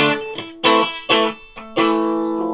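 Distorted electric guitar chords break into sustained, ringing tones that swell and hold, with a bright resonant edge like building microphonic feedback, played straight into an Orange TH30 amplifier.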